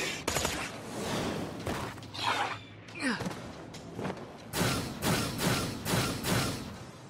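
Gunfire in Tales from the Borderlands, repeated loud bursts of shots in a rough rhythm, with a gap and a whoosh midway before another run of evenly spaced blasts.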